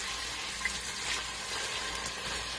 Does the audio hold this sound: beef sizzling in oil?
yes